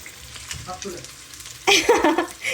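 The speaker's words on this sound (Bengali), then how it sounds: "ডিম ভাজার পাশাপাশি একটু বেগুনটাও ভেজে নিই" Egg and brinjal frying in a pan, a soft sizzle that suddenly grows louder and crackly partway through, as if something was just added to the hot oil.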